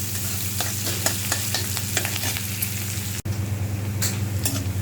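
Onion and garlic frying in oil until browned, with a steady close sizzle and repeated scraping stirs against the pan, briefly interrupted near the end before continuing.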